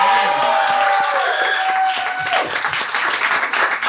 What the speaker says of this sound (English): give your warmest, loudest, raucous applause for our next artist